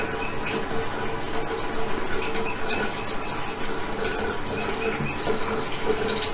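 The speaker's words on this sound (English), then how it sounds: "Now watch as I turn the water down a little bit." Running water from a tap being turned down in a goat-kidding barn, a steady close splashing rush with a faint mechanical hum beneath it.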